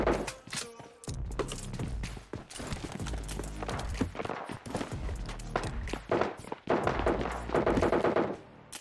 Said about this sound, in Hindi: नीचे घर में मुझे फुटस्टेप आते हैं